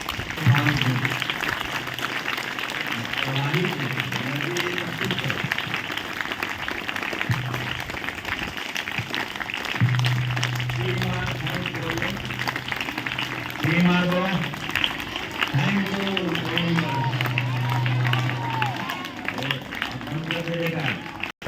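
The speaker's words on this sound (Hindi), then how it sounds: "जोरदार ताली बजाओगी तो" An audience claps loudly and steadily at a motivational talk on positive thinking and gratitude, the clapping running continuously under a speaker's voice and sustained tones.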